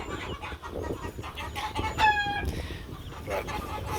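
Hens in a backyard flock squawk and cluck after one lays an egg, a clear loud burst of agitated calls midway over ongoing clucking, with a person talking briefly.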